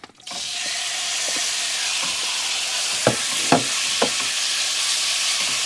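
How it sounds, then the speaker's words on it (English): Chicken fries in melted butter in a pan inside a camper van, giving a steady close sizzle with a few sharp clicks of a utensil stirring. "Then we can add some butter to the pan, let that melt. And then we can add our chicken."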